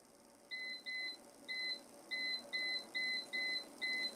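A kitchen timer, just set for a pan of dollar-store Betty Crocker fudge brownie mix, sounds eight short electronic beeps in a steady, evenly spaced run, clear and close in a quiet room.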